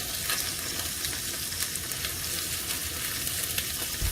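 Onions frying with beef in a hot pan for an Irish steak dish, a steady loud sizzle with faint crackles and stirring, close and continuous with no talk.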